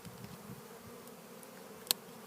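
A large bee swarm on a cedar tree hums as a close, steady buzz, with light rustling and a sharp snap near the end.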